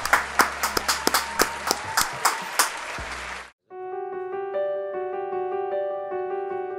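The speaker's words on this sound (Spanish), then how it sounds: "Un aplauso" Sparse, distinct claps from a small audience at a cultural broadcast event, about a dozen sharp hits over a low hum, breaking off abruptly before a sustained musical tone takes over.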